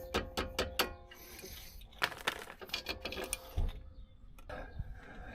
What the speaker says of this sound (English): now is probably the time to take out these push pins, these guiding pins, while it's still on the caliper.